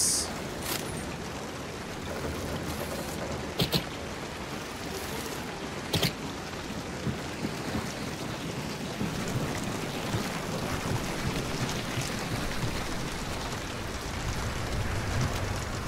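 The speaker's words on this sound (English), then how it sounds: "this rain sucks." Steady rain pours throughout a stormy scene in the Hunt: Showdown video game, a dense continuous hiss with a few sharp louder cracks near the start, no voices.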